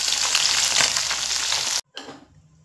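Small Mourala fish sizzle loudly in hot oil with a steady, crackling hiss that suddenly cuts off, then a quieter, fading sizzle resumes.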